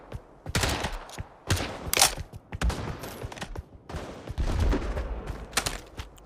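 Video game shotgun fire, with dual-wielded shotguns held one-handed, booms out in a rapid barrage of loud, overlapping blasts across several seconds, close and dense, with no talking.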